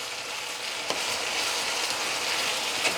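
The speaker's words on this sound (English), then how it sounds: "I'm gonna go ahead, give this a stir." Garlic, sweet peppers and seasoning fry in a pan while being stirred for Jamaican-style curry saltfish. A steady close sizzle runs throughout with a couple of brief scraping stir strokes, and no one speaks.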